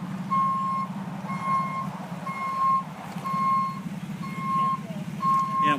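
A tow truck's reversing alarm beeps steadily, about six evenly spaced tones, over a low idling engine rumble at a roadside scene where a burgundy Jeep is being loaded after a police chase.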